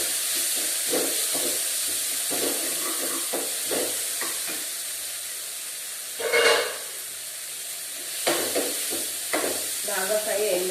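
Potato curry for poori frying in a pan, heard as a steady close sizzle and hiss with intermittent scraping stirs of a spoon and a louder burst of spattering midway; a voice talks briefly near the end.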